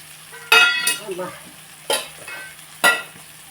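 A spoon scrapes and stirs cauliflower and meal maker curry frying in oil, three distinct scraping strokes over a soft background sizzle, close and clear.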